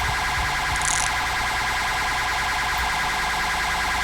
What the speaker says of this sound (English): We'll just cut our siren there.